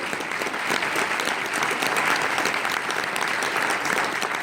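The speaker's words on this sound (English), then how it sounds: "These are the people that we want to applaud." A large audience at a 1943-themed Christmas radio theatre broadcast in Portland, Oregon, applauds military veterans, producing dense, steady clapping that holds loud and continuous throughout.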